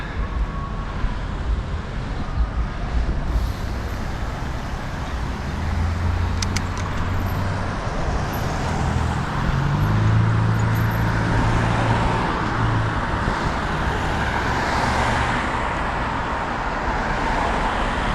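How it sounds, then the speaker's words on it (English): Steady roar of traffic on a busy road in historic Manchester, New Hampshire, a continuous loud wash of passing vehicles with low engine rumbles swelling midway and no voices. "Let the traffic die down a little bit."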